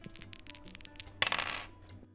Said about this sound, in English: I suppose I can roll a dice.